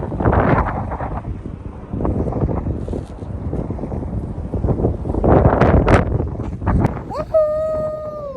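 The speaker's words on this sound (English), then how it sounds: "Super windy" Heavy wind buffeting a microphone in loud, rumbling gusts throughout, in the desert at Joshua Tree, California, with a brief tonal whine near the end.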